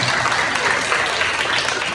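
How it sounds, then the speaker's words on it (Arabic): Children and adults clapping for a little girl at a kindergarten graduation, a dense, even patter of applause that carries on without a break. "صفقوا لها صفقة قوية"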